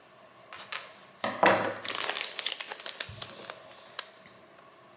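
Scissors cut through crinkly gift-wrapping paper at a table during Christmas gift wrapping, giving close rustling and crisp snips that grow busier midway, then fade to a few light taps.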